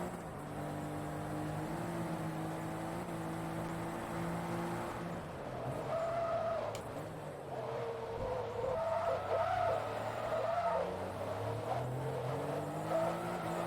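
Rear tyres of a Porsche 911 GT2 slipping and squealing in the Forza Motorsport 2 racing game, with a wavering, whining screech over the car's engine that comes and goes in long smears.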